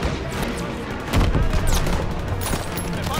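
Dense battlefield gunfire in Call of Duty WWII, with rapid overlapping rifle and machine-gun shots and heavier booming cannon blasts, loud and continuous through the whole stretch.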